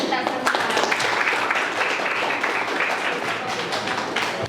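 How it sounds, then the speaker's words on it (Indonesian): Applause from a group of teachers and students in a classroom practice-teaching session, a steady broadband patter of clapping holding for several seconds with some voices mixed in. "tepuk tangan untuk kita semua"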